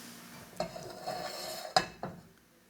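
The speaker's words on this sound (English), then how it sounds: "here I am taking a pan with some oil" A pan with coconut oil handled on a stovetop, giving a few sharp metallic clinks and knocks of cookware spaced apart, fairly quiet and close, with no talking.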